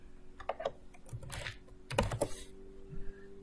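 Keys clatter on a computer keyboard in short bursts of typing as a search term is entered in crafting software, close and fairly quiet with no speech.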